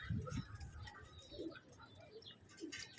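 Pigeons coo softly in a few low, throaty bursts, faint and close, with scattered rustling and chirps around them and no talk.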